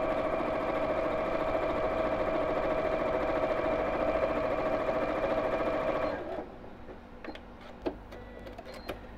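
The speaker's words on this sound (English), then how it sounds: "we're just sewing up to the lining piece" A sewing machine stitching the seam of a box bag up to the lining piece runs with a steady, close mechanical hum for about six seconds, then stops, leaving faint quiet handling taps.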